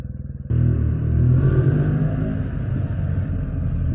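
A Yamaha T-Max scooter engine on a road test ride: a brief quiet idle, then a loud, steady revving rumble that holds close and strong to the end, with no talking.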